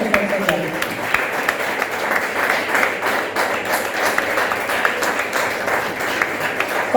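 Congregation in a church applauding steadily for several seconds, a dense wash of clapping with some voices mixed in underneath.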